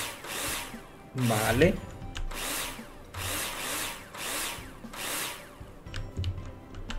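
A power drill in the video game Builder Simulator whirs in repeated bursts of about a second each, loud and near, with short gaps between, under someone speaking briefly.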